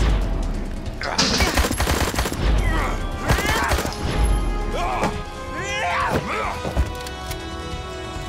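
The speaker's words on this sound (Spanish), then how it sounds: "Ojo, una ametralladora" Bursts of machine-gun fire rattle through the Blues and Bullets video game, with rapid repeated shots mixed with crashes and splintering, plus a voice speaking briefly among the game sounds.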